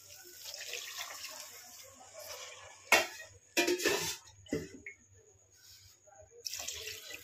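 Water is poured into a cooking pot for oats upma, a steady splashing pour interrupted by a few louder bursts and clatters of the vessel in a home kitchen.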